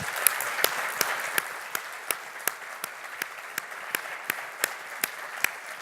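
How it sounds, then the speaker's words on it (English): A small audience at a shipbuilding conference session claps in a steady, even round, with distinct individual claps standing out over a softer wash of hand claps. "One more round of applause"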